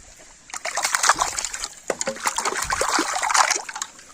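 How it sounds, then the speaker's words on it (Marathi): Eyeglasses rinsed in spring water at a waterfall, with splashing and trickling that runs steadily for a few seconds, close by and fairly loud, with no talking. "चष्मा धुवू आपण."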